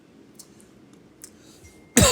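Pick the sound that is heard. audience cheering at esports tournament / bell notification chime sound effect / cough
cough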